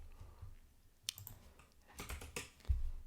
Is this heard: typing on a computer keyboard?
yes